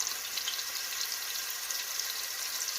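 Shrimp frying in preheated oil for a cabbage and bell pepper dish, a steady, hissing sizzle with fine crackles throughout, close and even, with no talking.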